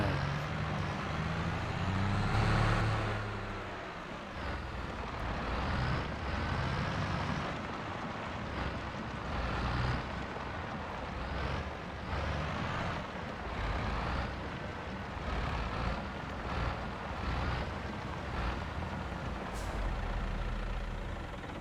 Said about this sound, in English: when your tractor could only drive 20 miles per hour, that seems like the longest ride ever.